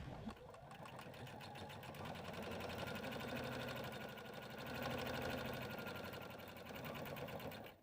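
A sewing machine runs steadily, top stitching a folded bag lining pocket, its fast mechanical whir and needle rhythm continuous and close for the whole span, swelling slightly near the middle.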